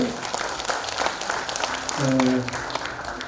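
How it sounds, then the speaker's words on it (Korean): Audience at a cultural center anniversary ceremony in Jeongeup applauds to welcome guests, a dense patter of many hands clapping throughout, with a voice speaking over it. "박수로 환영해 주시고요"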